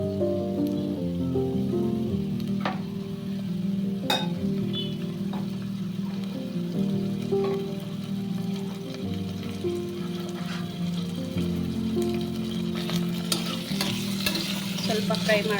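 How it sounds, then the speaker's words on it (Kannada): Marinated chicken sizzles and fries in hot oil in a pan, a continuous crackling sizzle with occasional stirring clinks and scrapes, steady and close, with no talking. "ಮ್ಯಾರಿನೇಟ್ ಮಾಡಿರೋ ಚಿಕನ್ ಹಾಕ್ತಾ ಇದ್ದೀನಿ"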